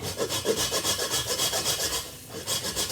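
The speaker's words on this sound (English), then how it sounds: "When you grate it from frozen, it doesn't leave the fibers that you usually have when you grate fresh ginger." Frozen ginger rasps against a microplane in quick, even back-and-forth strokes, a close scratchy grating about five strokes per second with a brief pause near the end.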